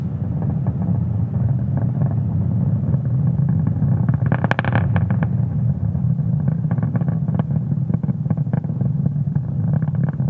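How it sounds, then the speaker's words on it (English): Rocket engines during ascent through Max Q, a continuous deep, loud roaring rumble with a brief crackling surge midway, steady and distant-sounding with no voices. "Now we are throttling down the engines in preparation for Max Q."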